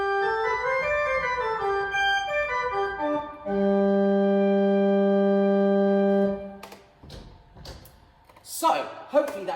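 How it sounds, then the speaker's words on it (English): A pipe organ plays combinations of higher-pitched stops, first as shifting chords, then as one steady, bright held chord that stops abruptly. A person starts speaking afterward. "So on the organ, we're also able to get these different combinations of higher pitched sounds"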